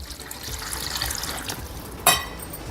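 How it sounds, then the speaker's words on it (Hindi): Water is poured from above into a bowl of semolina and whisked yogurt for rava idli batter, a close, soft, steady trickle ending in a brief louder splash. "ऊपर से डाल देंगे पानी"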